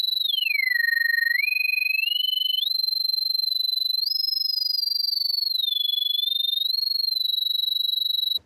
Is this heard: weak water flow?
no